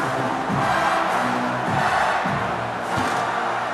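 A home football stadium crowd at an LSU Tigers college game roars steadily, a dense wash of cheering and yelling that swells slightly and holds for several seconds without pause.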